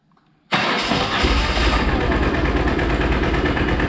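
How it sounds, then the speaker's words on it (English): A BMW R1100GS motorcycle engine, fresh from an oil change, cranks and catches after a moment of quiet, then holds a steady, loud, close idle with no voices. "we are gonna start the engine. I'm gonna try to start it"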